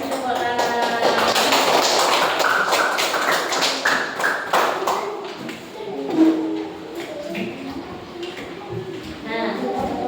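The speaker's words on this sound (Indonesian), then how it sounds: "Kita kasih tepuk tangan." A classroom of students claps together in a dense, steady burst of applause that fills the room, with murmuring voices mixed in underneath.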